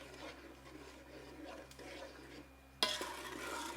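Peanut butter fudge mixture stirred in a pot, a soft continuous scraping and swishing at low level, followed by a sudden brighter, louder hiss near the end.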